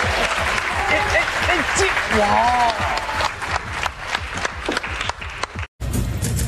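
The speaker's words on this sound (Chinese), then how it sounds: "掌声。" Studio audience applause bursts out during a billiards game show, a dense steady clatter of clapping that fills the whole stretch, with an excited voice and speech running over it and a brief dropout near the end.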